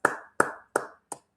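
Four sharp hand claps, about a third of a second apart, each crisp and close, given as thanks to a donor during a livestreamed address, with no talking over them.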